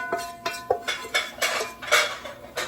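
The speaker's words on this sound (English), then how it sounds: "I'm going to mix everything together here" A utensil scrapes and knocks against a baking dish while mixing spaghetti squash casserole ingredients with onions and peppers, giving a steady series of clinks and scrapes about every half second, close and clear.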